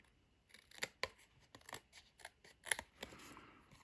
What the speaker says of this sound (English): I'm just going to use my scissors, and I'm also going to trim off the bottom so it's a little bit straighter